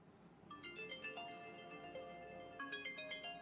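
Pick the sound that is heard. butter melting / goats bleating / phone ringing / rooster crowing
phone ringing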